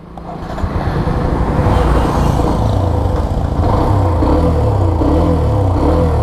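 A Hero Xtreme 125R motorcycle engine pulls steadily while riding, a loud continuous drone with rising and falling pitch as it accelerates, mixed with wind and road noise.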